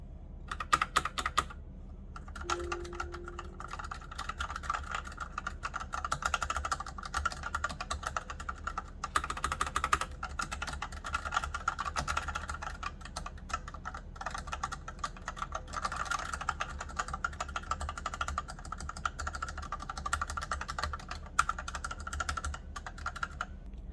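Close, steady typing on a budget gaming computer keyboard, with rapid clicky keystrokes and bursts of key clatter running almost unbroken for about twenty-four seconds, no voices.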